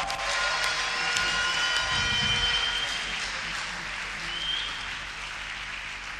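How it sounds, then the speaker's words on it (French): A French-speaking church congregation claps and cheers in acclaim during a Bible seminar service. The applause is a steady, dense wash that holds strong, then gradually softens toward the end. "Est-ce qu'il peut le manifester en acclamant pour le Seigneur, le roi de gloire?"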